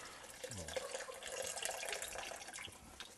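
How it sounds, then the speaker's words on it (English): Water is poured into a pot over potatoes for a family stew, a soft steady trickle and splash, quiet and close. "Put a half a cup of water in."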